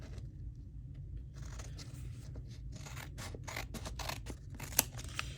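Scissors snip through paper to make small fussy cuts for a junk journal card, a quick run of close, crisp cuts over a steady low hum, with no talking.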